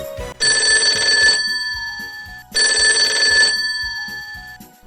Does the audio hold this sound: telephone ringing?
yes